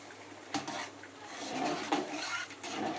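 Rice stirred into a pot of simmering vegetables for khichuri flavoured with ground fennel, giving soft scraping and clinking of a utensil against the metal pot, with a few sharper knocks amid low steady kitchen noise.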